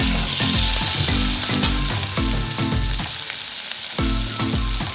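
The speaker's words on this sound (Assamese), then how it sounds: "আৰু এতিয়া মই মাছ ভজাৰ তেলতে দিলোঁ পিঁয়াজখিনি।" Onions fry in the oil left from frying fish in a pan, a dense continuous sizzle with rhythmic scraping strokes of a spatula every half second or so, close and loud, no talking.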